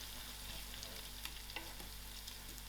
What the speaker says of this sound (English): I'm also going to add in my cinnamon stick and allow it to fry a little.